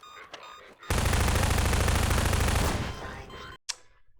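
Sustained loud burst of gunfire from a shotgun enemy in Half-Life 2: Lost Coast, close and continuous for nearly three seconds before cutting off, followed by a single sharp report.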